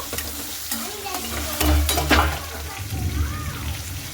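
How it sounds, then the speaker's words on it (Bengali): Chopped onions frying and being stirred in a hot pan with green chili and nigella seeds, a steady close sizzle with scraping spatula strokes that swell in the middle, alone without talk. "তো পেঁয়াজটা খুব সুন্দর করে লাল লাল করে ভেজে নিতে হবে।"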